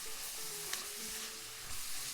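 A steady crackling sizzle from dried pollock soup broth in a pot boiling down nearly dry, continuous and close, with faint tonal hums underneath and no talking.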